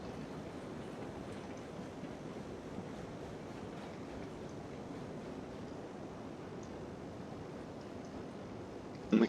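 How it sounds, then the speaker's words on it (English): A train runs in the Railroads Online video game, heading downhill along a coal mine line, giving a steady low, noisy rumble that continues evenly and fairly quietly throughout with no talking. "not even sure I'm going to turn the train round."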